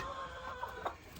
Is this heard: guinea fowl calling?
yes